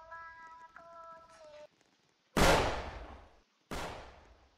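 Gunfire in the Roblox Squid Game video game: two loud, sharp shots with long decaying tails, heard alone after a short stretch of tonal game music.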